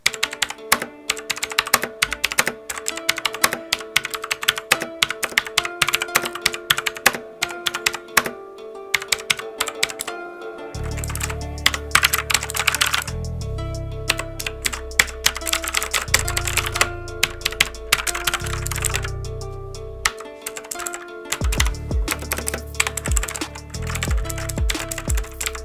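Tactile key presses on a Zebronics Max Pro mechanical gaming keyboard, a steady stream of clicky, clacking keystrokes with bursts of fast typing and brief pauses, close and alone with a low hum beneath.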